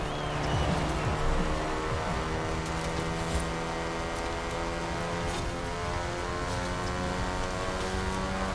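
Morris Minor fitted with four-wheel drive and new tyres, racing in Forza Horizon 4 on a wet track: a steady, loud engine drone with layered harmonics holds throughout, with brief rising whine early on.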